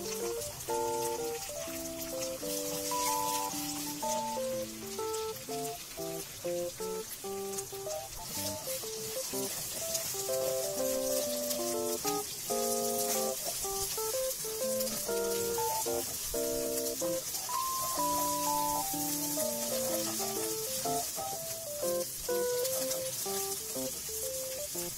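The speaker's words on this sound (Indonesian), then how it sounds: "masukkan juga telur. Aku pakai 2 butir telur, lalu orak-arik hingga matang." Two eggs and bird's eye chilies are scrambled in a hot pan for simple fried rice, giving a continuous bright sizzle. Background music with clear melodic notes plays over it throughout.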